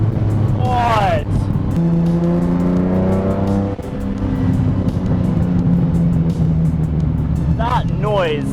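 A Lamborghini Diablo VT engine revs hard while driving, a loud, steady, rising drone heard from inside the car. Excited voices exclaim over it.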